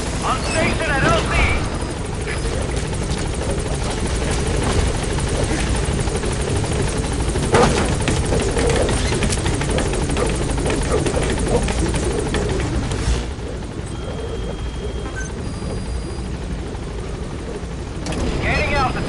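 The P-Quad helicopter from Metal Gear Solid V arrives at the landing zone, its loud, steady rotor roar continuing for close to twenty seconds, easing slightly near the end, with radio voices over it.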